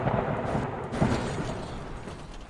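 A deep, rumbling blast with a heavy low roar that sustains throughout, swelling slightly around the middle before slowly fading.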